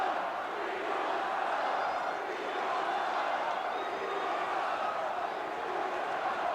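A wrestling arena crowd at a WWF World Championship Wrestling match between Jesse Ventura and Chris Curtis keeps up a steady, distant, rhythmic chant, with no commentary voices.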